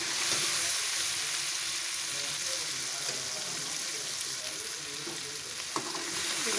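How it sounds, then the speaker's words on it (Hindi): Meat and bay leaves browning in a pan for pickle-style gosht, a steady dense sizzle running continuously throughout with faint scraping and a brief clink near the end. "गोश्त और बे को अच्छी तरह भून लिया।"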